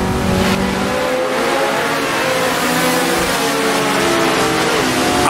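A vintage race car engine in the Assetto Corsa racing sim, roaring loud and close the whole way through with a steady high-revving drone and slight pitch shifts as it comes out of a corner.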